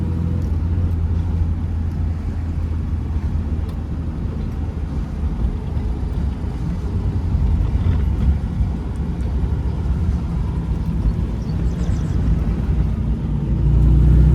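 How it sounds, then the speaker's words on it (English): A 1958 Jaguar XK 150 engine drones steadily while driving, a low rumbling note with smooth shifts, heard from inside or close by. "Here comes a 1-2 shift, butter smooth, fantastic sound."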